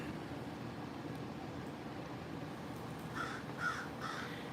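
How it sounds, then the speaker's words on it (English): A crow caws several times near the end, loud and close, over a steady hum of a neighbour's air conditioner in the background, with no talking. "Can you hear that crow yelling at me?"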